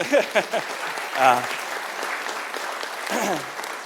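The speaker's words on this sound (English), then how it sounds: "I would just like to give them a clap for 2 seconds" Audience applause at a city commission meeting in Coral Springs, a steady moderate clapping bed with voices speaking over it intermittently.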